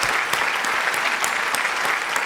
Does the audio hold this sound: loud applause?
yes